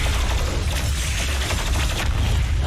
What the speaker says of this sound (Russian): Ведется стрельба из ВР-2000.